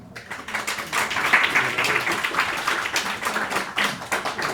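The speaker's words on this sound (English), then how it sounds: "let's give a round of applause for Jolijn" Audience applause for a storyteller at a live talk event, a steady burst of many hands clapping at close range that holds for several seconds with no voices over it.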